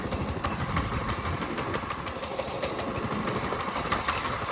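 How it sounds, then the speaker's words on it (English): A 1968 Ford Mustang engine idles with a steady, low rumbling drone and faint rhythmic ticking, close by and unchanging, with no voices. "we are just idling. I'm not even hitting the gas."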